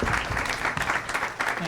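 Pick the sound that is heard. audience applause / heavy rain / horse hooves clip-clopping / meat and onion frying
audience applause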